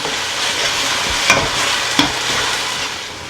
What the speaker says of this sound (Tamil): அந்த இஞ்சி பூண்டு வந்து அந்த எண்ணெயில் வதங்கி வதங்க வதங்க கீழே பிடிக்கும்